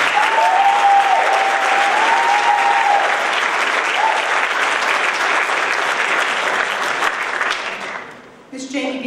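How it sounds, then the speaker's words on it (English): Sustained audience applause at a pharmacy school honors and awards ceremony, a full, even roar of clapping with brief voices over it early on, fading out near the end before talk resumes. "Let's give them a round of applause before the ceremony."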